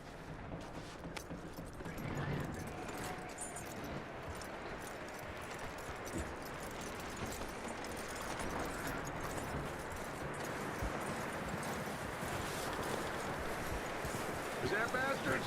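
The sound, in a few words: horse hooves clip-clopping in the video game Red Dead Redemption II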